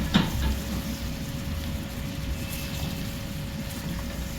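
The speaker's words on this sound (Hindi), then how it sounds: "मोगरा ऐड कर देते हैं, एक अच्छा सा मिक्स देते हैं" Radish pods are stirred into a tomato masala frying in oil, giving a steady close sizzle with a brief clatter at the start and no voices.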